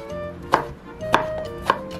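A knife chops eggplant on a cutting board with three sharp, evenly spaced thuds, close and clear against quiet kitchen background.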